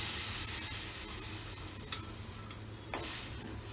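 Onion-tomato masala for kadala curry frying in a pan, a steady soft sizzle with occasional scraping stirs and a couple of brief clinks, close and alone.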